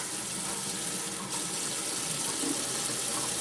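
Water running steadily from a kitchen tap during handwashing, a constant broadband splash and hiss with no pauses, close and continuous throughout.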